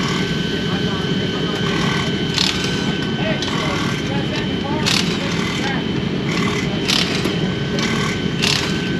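Loud, constant engine roar while the carburetor is adjusted to let more fuel in, steady and close with no clear rev changes, with occasional bursts of higher noise over it.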